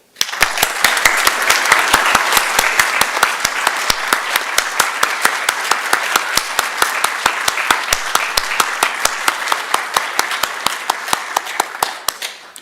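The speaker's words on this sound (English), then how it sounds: "Let's applaud our new Eagle Scouts and those who helped them soar." An audience applauding new Eagle Scouts at a Troop 505 Court of Honor, sustained clapping from a crowd with one near clapper's sharp, regular claps standing out, tapering slightly toward the end.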